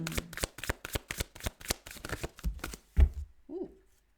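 Tarot cards being shuffled in a quick run of crisp riffling snaps and flicks, close and fairly quiet, with no talk, ending in a short soft rustle.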